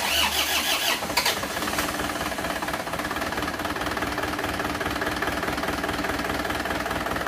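A diesel car engine, an Isuzu Panther with cast cylinder liners fitted, cranks on a second start attempt and catches, then runs loud and steady with a rough knocking idle, no talking.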